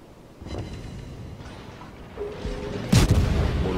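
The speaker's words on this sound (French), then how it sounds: "On a entendu les canons du Richelieu." Naval cannon fire from the French battleship Richelieu in World of Warships, distant muffled booms rolling in a few times, then a louder heavy blast near the three-second mark followed by rumbling.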